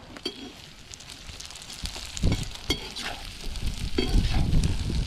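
Hissing sizzle rises as carrot fries in a pot for plov, punctuated by low thumps and scraping stirs that grow busier toward the end.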